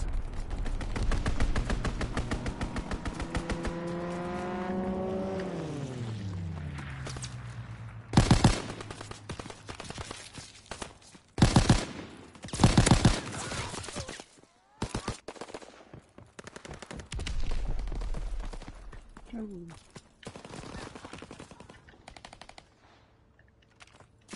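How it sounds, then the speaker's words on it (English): Rapid machine-gun strafing fire from a fighter aircraft in a video game: loud, dense bursts of automatic gunfire repeated across the stretch, with a diving engine whine early on and sharp blasts between. "Fighter pilot inbound, strafing the target."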